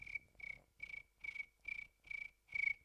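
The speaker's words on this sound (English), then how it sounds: "Bring the crickets back." Cricket-like chirps during a live music performance, seven evenly spaced buzzy pulses about every 0.4 seconds, clear and alone against a quiet background.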